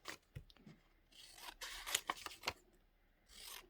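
Paper being cut with scissors for a collage, a run of short snipping and crisp crunching cuts at close range, grouped in uneven bursts with brief pauses and no talking.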